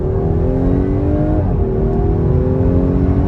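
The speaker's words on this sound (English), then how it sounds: "Now this person ahead of me needs to turn so I can rip it on the last straightaway." A 2018 Audi A5 Sportback with a 2-liter turbo four-cylinder accelerates hard, heard from inside the car as a loud, continuous engine drone whose pitch climbs, dips briefly, then climbs again.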